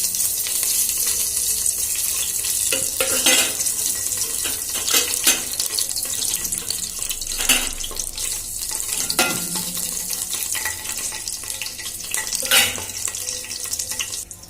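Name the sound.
adding palav spices to hot oil and stirring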